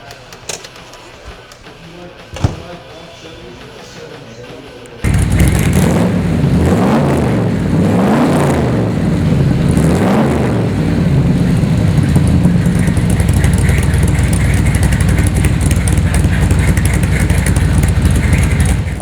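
A 1966 AC Shelby Cobra is driven. After a few quiet seconds with a click, a loud, close engine rumble takes over, with the revs rising and falling before settling into a steady roar.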